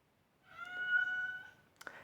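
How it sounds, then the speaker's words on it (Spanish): A house cat meows in one long, drawn-out call in an indoor room, fairly close to the listener, followed by a couple of faint knocks. "Blacky, no me empieces a maullar, que fastidias el vídeo"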